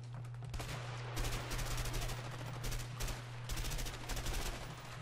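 Rapid bursts of gunfire from a two-shot-kill gun in the video game A Way Out, loud, dense and continuous, broken into several repeated volleys with a steady low hum underneath.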